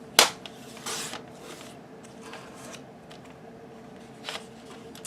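Fabric being cut for an album pocket: a sharp close snip at the start, then softer rustling and brief cutting sounds against a quiet background.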